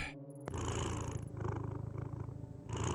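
A cat purrs in the video game Tokyo Dark, a soft steady rumbling purr with a brief chime at the start, alone without talk.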